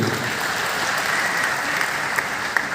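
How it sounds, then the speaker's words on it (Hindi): A seated audience at a business meeting gives sustained, dense applause that fills the whole stretch at steady loudness, with no speech over it. "एक बार जोरदार ताली इनके लिए"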